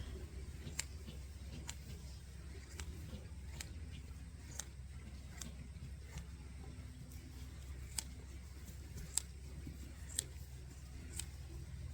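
Sheep being hand-sheared with scissors: faint, evenly spaced snipping clicks, roughly one each second, over a low steady rumble in the background.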